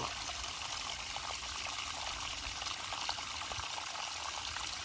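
Water trickles and pours steadily at a waterfall where fish gather in the pool, a continuous hiss with small splashy flickers, fairly faint and without voices.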